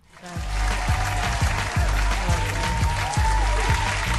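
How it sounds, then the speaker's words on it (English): Studio applause on a morning talk show, a dense, steady wash of clapping that holds for about four seconds over a thumping, regular beat. "Clap it up for that."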